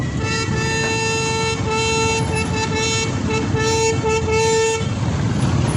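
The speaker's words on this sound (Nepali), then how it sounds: "यत्रो बाटो छ, हर्न बजाएको के गरे हो" Several vehicle horns honk in a traffic jam, sustained and overlapping tones blaring loudly and close over a steady rumble of engines, with short breaks between the blasts.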